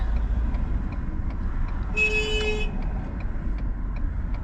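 A car circling slowly in search of parking, heard as a steady low engine and road rumble from inside, with a short horn-like tone briefly rising over it midway.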